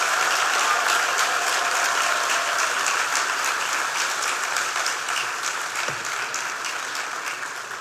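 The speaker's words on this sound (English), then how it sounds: "give a loud round of applause for everyone who has made this coming together possible" A loud, sustained round of applause from a large crowd at a university graduation ceremony, a dense, steady roar of clapping that continues throughout and eases slightly toward the end.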